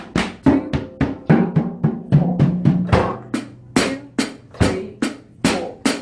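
Drum kit groove in 8th-note triplets, a steady rolling pattern of sharp hits with kick and snare accents and a roughly three-to-the-beat pulse, loud, close and alone with no voices.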